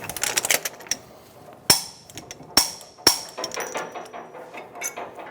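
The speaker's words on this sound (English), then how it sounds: "torque the axle nut" Torquing the axle nut to 177 foot-pounds on a 2014-2018 Chevrolet Silverado front wheel bearing and hub assembly, with a punch wedged in the rotor fins. Three sharp, loud metallic clicks ring out close by, separated by quieter handling noise.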